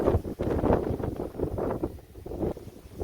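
A strong gust of wind blows across the microphone beside an Aliner camper trailer, a loud, continuous rushing roar with buffeting surges that rises and falls over a few seconds, with no other sound standing out.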